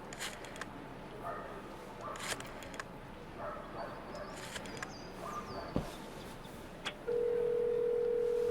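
Payphone dialing in the video game Syberia: The World Before, soft keypad tones and clicks over a busy ambient background, ending in a loud steady dial tone for the final second and a half.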